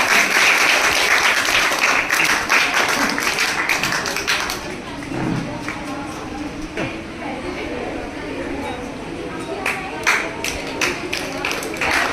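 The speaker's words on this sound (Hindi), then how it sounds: "तालियां तालियां आवाज कमाइए।" Applause from an audience at a school award ceremony honouring girl students, dense clapping loud at first then thinning and fading, with a voice speaking over it.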